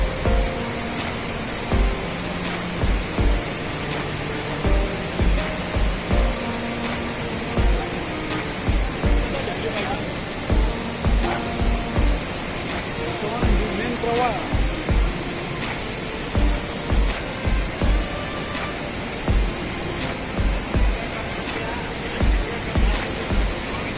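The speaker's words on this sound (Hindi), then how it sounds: "और ये है यमुना नदी का प्रवाह।" Rushing flow of the Yamuna river at Yamunotri in the Himalayas, a steady broadband roar throughout, overlaid by regular low thumps and bursts of nearby activity.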